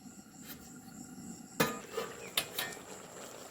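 A cooking pot's lid is lifted after simmering a vegetable stew in a village kitchen, giving a couple of sharp metallic clinks over a steady background of chirping crickets.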